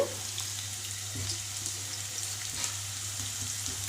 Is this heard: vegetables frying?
yes